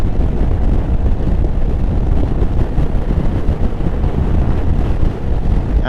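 Strong wind buffets a learner motorcycle rider near traffic and a roundabout, a loud continuous low roar of wind rushing over the microphone with no talking.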